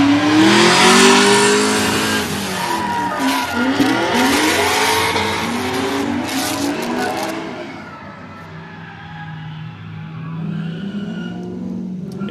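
A Cadillac CTS-V drifting at a live event, its engine revving loud and close with rising and falling pitch sweeps and tire squeal, then easing off to a lower rumble toward the end.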